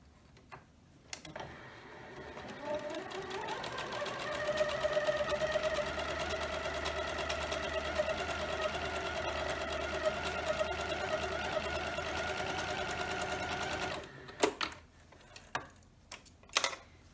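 A quarter-inch seam on a scrappy quilt block is stitched by a sewing machine in one long, even, humming run of about twelve seconds, followed by a few sharp clicks and handling knocks once the motor stops.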